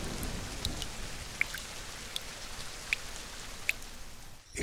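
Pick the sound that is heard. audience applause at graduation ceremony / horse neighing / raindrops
raindrops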